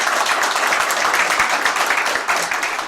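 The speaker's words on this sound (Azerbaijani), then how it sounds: "Gəlin dəyərli sənətkarımızı bir daha alqışlayaq və tədbirimizi başlayaq." An audience applauds an honoured artist at an event in California with sustained clapping from a full room, dense and even until it starts to taper at the end.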